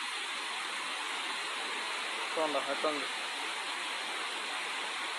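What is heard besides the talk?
river water flowing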